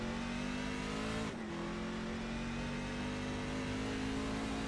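Race truck engine revving hard and steady in an onboard view on the Sonoma road course, with a brief dip as the driver shifts the H-pattern gearbox before the drone climbs again.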